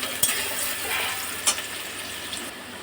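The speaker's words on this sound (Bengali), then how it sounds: "ডুমো ডুমো পেঁয়াজ কাটা তেলের মধ্যে দিয়েছি, একটু হালকা লাল হবে" Diced onions frying in hot oil in a pan, a soft steady sizzle with a few brief clicks of stirring, fairly quiet and without talk.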